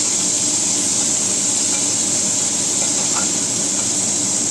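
Tomatoes and two chilies fry in a pan for a paneer capsicum masala, giving a steady, even hiss of sizzling oil with faint scraping, close and constant without pauses or talk.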